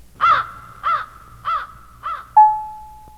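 A crow caws four times at an even, unhurried pace, harsh and fairly close, outside a window, followed by a single bright chime that rings out and fades.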